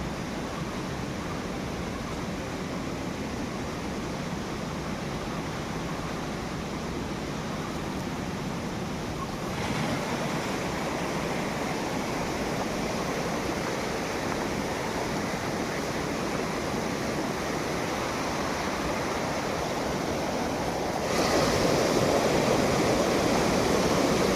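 Monsoon stream water rushing steadily around someone wading through it with a heavy crate of wet bamboo seedlings, a continuous close broadband wash that swells slightly louder near the end, no voices.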